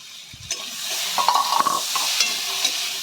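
A lid clatters off a pan of cooking pointed gourd, then a spatula scrapes and stirs the vegetables over a close, steady sizzle with quick uneven strokes.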